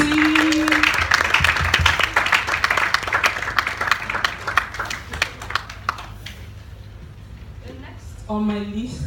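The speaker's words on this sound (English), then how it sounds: "Please join me with a resounding applause to welcome our one and only tribe" Loud audience applause with dense clapping greets a star speaker at a 2019 Lagos event, fading after about six seconds into scattered claps before a voice begins speaking.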